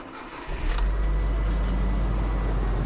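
A Nissan car engine cranks and catches at about half a second, then settles into a steady, loud, close idle that carries on alone to the end.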